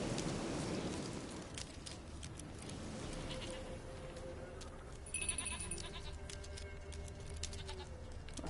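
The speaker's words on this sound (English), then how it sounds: "The damn goat." A goat in Witcher 3 bleats a few times at moderate distance, wavering calls standing out over steady game ambience with rainfall.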